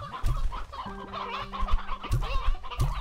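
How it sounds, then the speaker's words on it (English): Stony hens from the video game Slime Rancher 2 cluck repeatedly in short, clear bursts, with several birds overlapping close up and no talking. "Stony hens."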